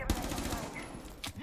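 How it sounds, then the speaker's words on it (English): Rapid bursts of gunfire in Rainbow Six Siege on the Kafe map crackle back and forth, dense and continuous, with a sharper burst of shots near the end. "Exchanging gunfire"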